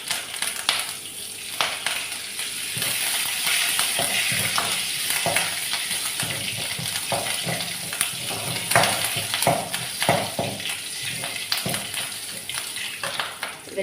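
Curry leaves sizzle in hot oil as tempering for a red chutney served with neer dosa, giving a steady, close crackle and spatter with occasional stirring.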